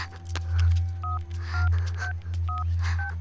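Telephone keypad tones beep one after another as a number is dialed, several short clear tones in a steady sequence over a low continuous hum, with no talk.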